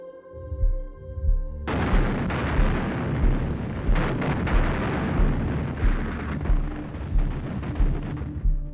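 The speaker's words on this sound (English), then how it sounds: "the deafening roar of Soviet gunfire can be heard" Heavy, continuous battle din with repeated booming blasts of Soviet artillery fire over a rumbling low roar, loud and sustained throughout, during the siege of Berlin.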